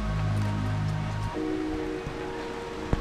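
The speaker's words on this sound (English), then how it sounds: "It's raining!" Steady rain falls at a tropical island resort, a dense broadband hiss that stays even throughout, with a low hum in the first part and a brief sharp tap near the end.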